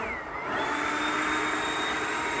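A Ryobi 40V brushless electric leaf blower runs at full throttle, a loud steady whine and rushing roar that ramps up in the first half second and then holds constant, close by.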